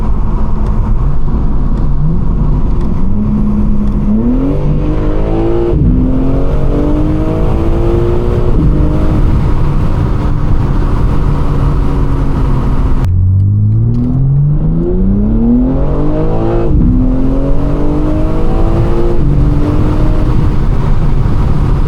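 A BMW G80 M3's aftermarket exhaust roars continuously and loudly, the engine note rising through gears in two long acceleration runs, with a brief lift between.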